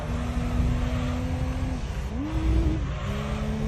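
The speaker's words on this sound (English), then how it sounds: "we're braking really hard" A race car in the Gran Turismo 3 video game roars continuously at close range, its engine pitch holding steady, then dipping and shifting as it brakes hard, with no talking over it.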